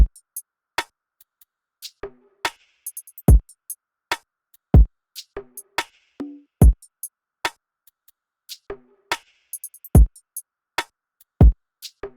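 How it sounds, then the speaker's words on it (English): A sparse, quiet drum pattern: soft kick thumps spaced out under crisp, ticking hi-hat hits with varying accents, with no voices. "The drums are pretty simple, but I just used the velocities to change and just give it like little accents throughout"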